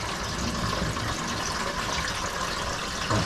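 Water pours steadily into a 14-litre tank, a constant gushing wash that stays fairly quiet and even throughout with no talking.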